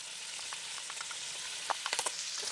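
Onions hitting a pot of browned bacon, a steady bright sizzle with a few scattered crackles and pops near the end, no voices.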